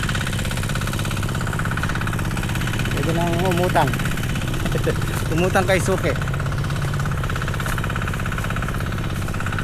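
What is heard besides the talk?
engine-driven water pump running on a farm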